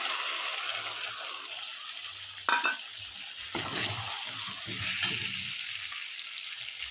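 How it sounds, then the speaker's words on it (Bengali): Onion frying in hot oil with dry chilli, ginger and garlic paste as it goes into the pan for a Bengali mutton curry: a steady close sizzle broken by a few sharp clatters and stirring scrapes, no talk. "এখন আগে থেকে পেস্ট করে রাখা শুকনো লঙ্কা, আদা, রসুন পেস্ট দিয়ে দেবো।"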